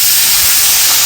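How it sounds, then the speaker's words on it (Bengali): Water poured into a hot pan of elephant foot yam cooking with turmeric, making a loud, continuous steamy sizzle and hiss that fills the whole moment. "এবার জল দিয়ে দেবো সিদ্ধ হওয়ার জন্য"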